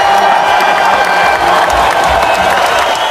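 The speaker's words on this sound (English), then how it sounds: "Give her a big applause." A school assembly crowd applauds a student, with loud, sustained clapping mixed with cheering and whoops that fills the whole stretch without a break.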